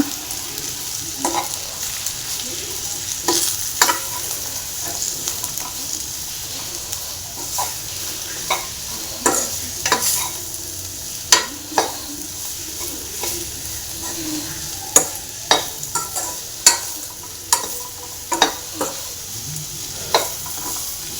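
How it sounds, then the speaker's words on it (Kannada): Bitter gourd stir-fry with chili powder is stirred in a pan, a constant sizzle broken by frequent spatula scrapes and knocks that grow more regular and louder toward the end, close up with no speech. "ಎರಡು ಟೇಬಲ್ ಸ್ಪೂನ್ ಅಷ್ಟು ಅಚ್ಚ ಖಾರದ ಪುಡಿ ತಿರ್ಗಾ ಮಿಕ್ಸ್ ಮಾಡ್ಕೊಳ್ಳೋಣ"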